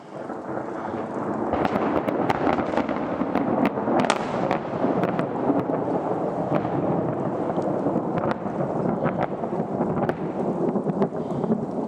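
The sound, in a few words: thunder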